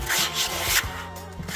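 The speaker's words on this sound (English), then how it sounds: "So we're going to use this 120" Steady scraping rub of 120 grit sandpaper working rust off an old metal gold pan, close and continuous with slight back-and-forth swells.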